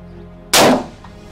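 A single .50 BMG rifle shot fired at a nilgai antelope, one sudden loud close blast that rolls off into a fading echo.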